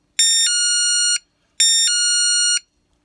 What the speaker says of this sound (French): il y a la sonnette qui sonne et on alarme